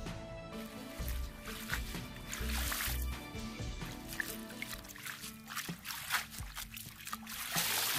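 Water sloshing and trickling while cleaned thistle is rinsed in vinegar water, with soft irregular splashes and dribbles that stay close but fairly quiet throughout.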